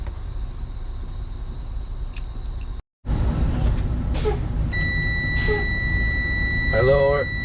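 Low air pressure warning buzzer in a truck's air brake system, a steady high electronic tone sounding under engine idle, with brief beeps and handling noises.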